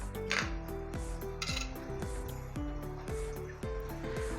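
A spoon scrapes and clinks rhythmically against a bowl while coriander, green chillies and curry leaves are mixed for kosambari. The close, repeated strokes come in an even beat and no one speaks.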